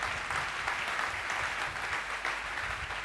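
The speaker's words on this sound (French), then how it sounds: "Vous pouvez applaudir." Church congregation applauding during a sermon, a steady, fairly faint wash of many hands clapping throughout, with no voices over it.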